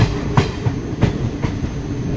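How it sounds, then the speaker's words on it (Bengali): The Malda-Howrah Intercity Express rolls into Khaldipur station, its wheels clacking loudly over rail joints in a steady rhythm heard from inside the moving train. "ট্রেন তার ফার্স্ট হল্ট খালদিপুর স্টেশন এন্টার করছে।"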